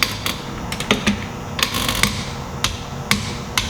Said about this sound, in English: The easiest way to torque this is, of course, your torque wrench, long extension, short socket.